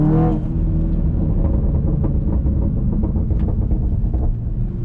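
A tuned 503-horsepower Škoda Superb 2.0 TSI estate's engine drones with a heavy low resonance inside the cabin, steady and loud throughout, with faint crackling pops from the exhaust.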